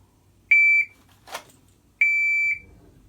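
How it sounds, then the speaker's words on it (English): Electronic par timer for dry-fire pistol practice at home gives two loud, clean sustained beeps about a second and a half apart, each lasting roughly a third of a second, with a brief rustle of movement between them. "Here comes the par timer."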